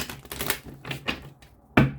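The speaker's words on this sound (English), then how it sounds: "2 more shuffles." Tarot cards are shuffled up close in a few quick bursts of crisp, clicking riffles, followed by a sharper final snap.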